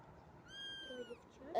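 A single kitten gives one drawn-out, high, thin meow up close, from a litter of five kittens, followed by faint rustling.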